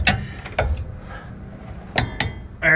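Several quick ratchet clicks from a torque wrench tightening the upper suspension to 70 foot-pounds on a frame-swapped Chevy C20, with a few metallic clunks in between, heard close in a quiet shop.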